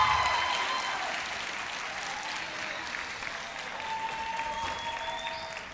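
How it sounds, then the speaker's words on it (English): Sustained audience applause for a high school symphonic band at a spring band concert, a dense steady clapping from a large crowd that slowly fades near the end, with no talk over it. "Let's give one more big round of applause for the symphonic band and Miss Miller."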